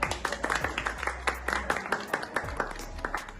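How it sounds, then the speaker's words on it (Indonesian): A small group claps at the close of a company meeting, with sparse, uneven hand claps that never swell into a roar, heard close in a room with a faint voice underneath. "Tepuk tangan untuk kita semua"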